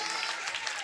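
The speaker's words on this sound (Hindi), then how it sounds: "एक बार इस जोड़े के लिए सुंदर तालियां" A crowd at a mass wedding ceremony claps for a newly married couple, a dense, even wash of applause throughout.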